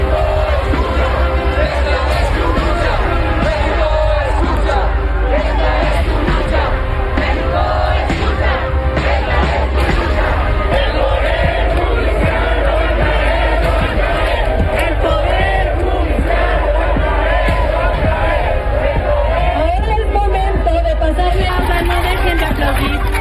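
A protest crowd outside the Senate chants and claps in a loud, constant roar of massed voices, with rhythmic shouting and applause blending into one dense wall of sound throughout.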